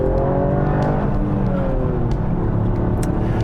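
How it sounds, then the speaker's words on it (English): A 2021 Toyota GR Yaris engine revs hard and climbs in pitch toward 7,000 RPM, then bounces against the limiter with a rapid stuttering buzz, loud and close. "The rev limiter kicked in"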